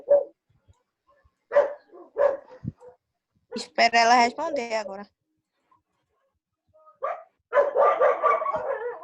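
Dogs bark in a loud burst of several quick yaps, with people talking briefly before and after.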